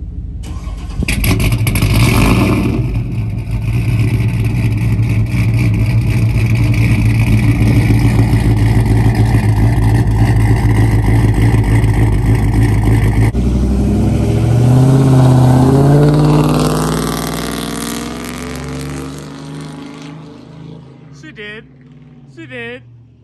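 Engine noise from a Chevrolet S10 street truck, a loud steady idle that swells into a rev midway and then fades, with people talking over it throughout.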